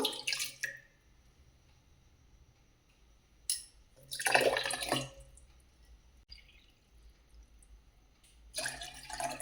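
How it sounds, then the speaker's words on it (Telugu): Water pours in a few separate bursts into sour yogurt, a splashing stream that starts and stops, with quiet pauses between; no voices. "ఒకటిన్నర కప్పుల వాటర్ పోసుకోవాలి"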